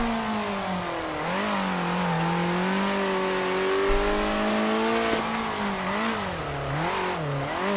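Racing car engines in a racing video game drone loudly and continuously, pitch rising and dipping through gear changes and corners as the cars accelerate and brake, with no speech over them.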